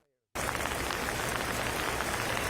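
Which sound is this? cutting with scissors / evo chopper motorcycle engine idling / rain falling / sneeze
rain falling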